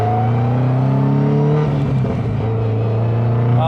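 An 800+ horsepower Subaru GC8 Impreza's exhaust rises steadily under acceleration, loud and close with stacked engine harmonics climbing in pitch, dipping briefly near the middle before pulling hard again without any talk.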